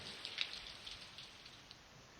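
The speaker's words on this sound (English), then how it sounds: "Rain pitter-pattering on the branches above." Soft rain patters on overhead branches in a video game scene, a faint, steady hiss with scattered tiny drop ticks and no voices.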